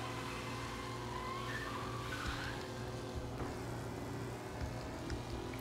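Car in the game Mafia driving fast through traffic, a steady engine drone with intermittent tire squeals and skids over roughly five seconds, no talking.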